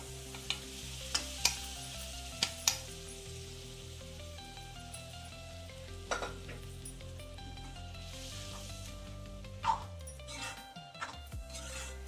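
Sprouted moth bean lentils go into a pan of masala paste and sizzle softly, with a few sharp stirring clicks and scrapes against the pan.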